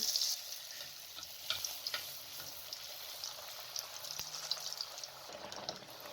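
Puri deep-frying in hot oil as oil is spooned over it, a steady crackling sizzle with brief splashy bursts, close and without talk.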